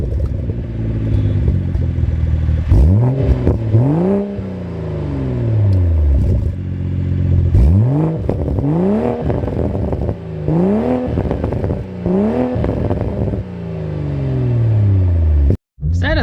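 A Toyota GR Supra with a manual gearbox accelerates hard through repeated gear changes, its engine note rising and dropping with each shift. The loud rumble is heard from inside the car and carries no talk.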